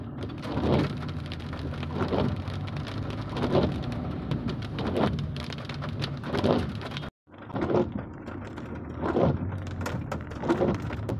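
Heavy rain pours steadily on surfaces during a September downpour, dense and close, with a rolling rumble like distant thunder and one brief drop-out midway.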